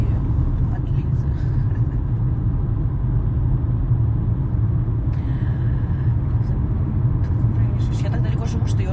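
Steady low engine rumble and road noise fill the inside of a moving car throughout, with a person talking over the constant drone.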